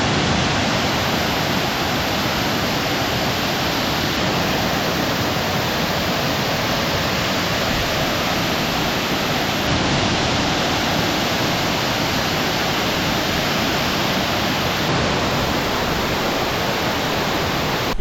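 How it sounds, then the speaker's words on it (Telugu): Chitradhara waterfall in Bastar, Chhattisgarh, roars as a dense, constant broadband rush of falling water, loud and unbroken for the whole stretch, with no voices heard. "సో వాటర్ ఫాల్ అయితే చాలా సూపర్గా ఉంది"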